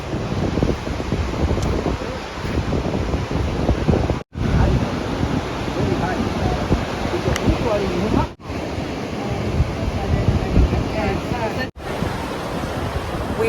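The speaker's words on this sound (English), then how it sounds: "We are here at the beach. It is massive." Surf washes continuously at a wide Florida beach, a loud broadband roar mixed with wind buffeting the microphone, with no clear speech over it.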